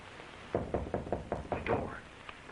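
Knuckles rap on a wooden door in a quick series of about seven sharp, evenly spaced knocks, close and clear against a faint hiss, with no voices.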